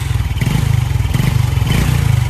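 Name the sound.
motorcycle engine running, being tuned with racing CDI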